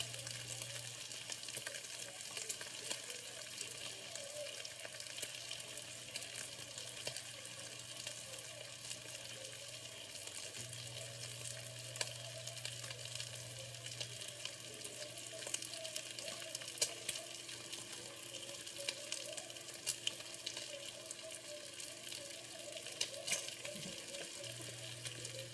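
Bacon frying in a pan for a bacon, egg and cheese sandwich, a quiet continuous crackling sizzle with a steady hum underneath and no talking.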